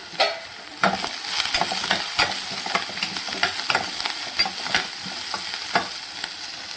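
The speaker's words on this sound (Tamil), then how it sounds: "இந்த டைமில் இப்போ வந்து கொஞ்சமாக கருவேப்பிலை சேர்த்துருங்க." Curry leaves sizzle and crackle in hot oil in a pan while a spoon stirs them. The frying is steady and close, with sharp pops and scraping throughout and no voices.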